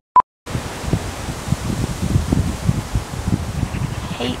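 Strong wind blowing outdoors buffets the microphone in a loud, steady rumbling roar with gusty surges, after a short tone at the very start.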